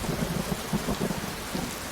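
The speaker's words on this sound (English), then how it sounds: "The rain's really that loud." Steady heavy rain in a virtual game world hisses loudly, with low rumbling pulses beneath, continuous and close.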